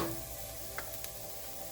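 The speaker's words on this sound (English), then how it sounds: "Keep sauteing on a medium flame" Egg chilli curry sautéing in a pan over a medium flame, a steady low sizzle with a couple of faint stirring scrapes near the end.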